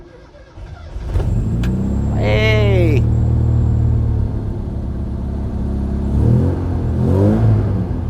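A cold classic JDM Mini Cooper from Japan, choke pulled, cranks and fires up through its new exhaust, then settles into a loud, steady, rumbling idle with slight revs. A person briefly speaks over it.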